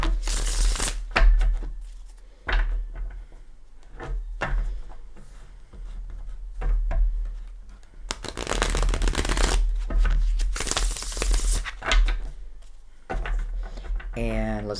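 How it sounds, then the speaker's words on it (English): A Gilded Tarot card deck being riffled and shuffled in several close, crisp bursts, with a person talking between the shuffles. "Let's bring in the Gilded Tarot. Already pre-shuffled, but we'll give it a couple shuffles."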